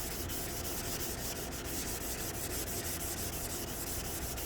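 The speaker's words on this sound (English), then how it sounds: "you want to sand off the entire top" A wooden RV table top being sanded by hand with 120-grit sandpaper, a continuous close rasping rub that stays steady and even throughout, with no talking.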